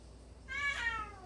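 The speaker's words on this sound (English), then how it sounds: "there's a cat in the background if you hear her" A single drawn-out cat meow in the video game Fallout 4, fairly clear and close, rising then falling, over a faint steady background hum.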